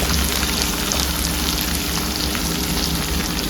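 Chicken pieces frying in oil in a pan give a steady, dense sizzle and crackle, close and fairly loud, continuing without pause and with no talking.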